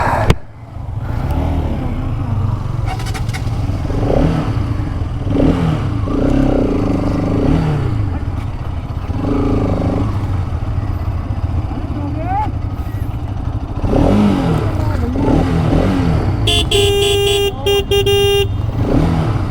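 Motorcycles racing: an RS200, an R15M and a Karizma XMR 210 with a steady, loud engine drone that rises and falls, and a burst of horn honks near the end.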